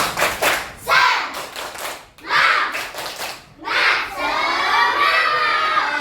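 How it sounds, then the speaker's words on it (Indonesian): Schoolchildren in an Islamic religious education class perform a rhythmic spirit clap, bursts of patterned hand clapping mixed with loud chanting and shouting voices, pausing between rounds before a longer sustained chant. "coba tepuk semangat"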